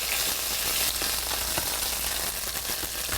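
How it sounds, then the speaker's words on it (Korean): Anchovies fry in a very hot pan for aglio e olio pasta, giving a loud, dense sizzle with crackling spatters and pops that continue without a break, heard up close with no talking. "엄청 뜨거우면 이렇게 많이 튀어요."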